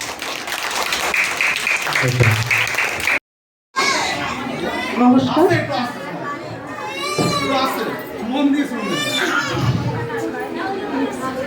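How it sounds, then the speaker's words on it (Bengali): Children and adults clap at a primary-school event under loud overlapping kids' chatter and talk. Applause runs briefly, cuts out for a moment, then resumes beneath busy voices. "হাততালি হবে"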